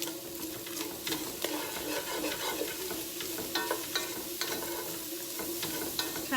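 Chopped garlic cloves and onions stirred in a soup pot, a steady scraping and sizzling texture with repeated utensil scrapes running throughout, fairly close and without talk.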